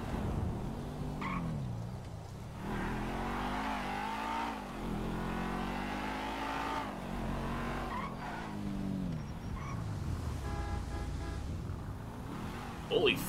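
Car driving fast in the video game GTA 5 during a cop and criminal roleplay, engine revving and pitching up and down through repeated gear changes with occasional tire squeals, fairly quiet with a voice talking over parts.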